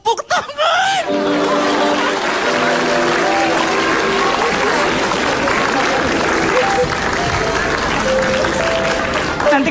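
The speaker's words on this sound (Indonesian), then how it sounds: "Tepuk tangan." Loud, sustained applause from a comedy show's studio audience, with scattered laughter and cheering voices running through it for nearly ten seconds.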